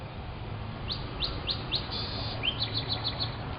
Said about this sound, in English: You can hear the birds sing.